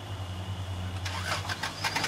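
A car engine starts up close by. A low steady idle hum runs throughout, then a burst of rougher, louder cranking and revving noise comes in partway through the short moment, with no talk.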